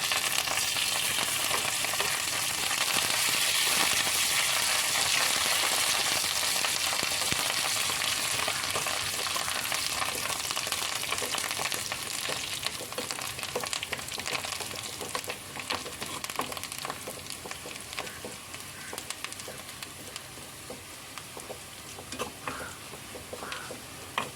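Shallots and curry leaves fry in hot oil for a curry, giving a loud, dense, continuous sizzle close by that eases slightly toward the end, with occasional stirring clicks.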